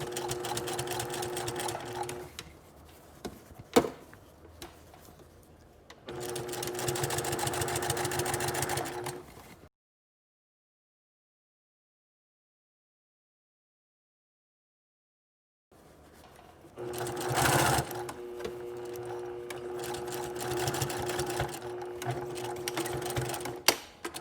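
A sewing machine edge stitches a puff sleeve facing to the seam allowances, running in steady whirring bursts with a brief thump, then stopping for several seconds of silence before starting up again, close and loud.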